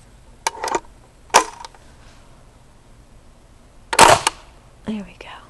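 Several sharp, close pops come from an Umarex Legends M1A1 airgun, spaced irregularly a second or more apart with one louder crack near the end, and faint voice sounds in between.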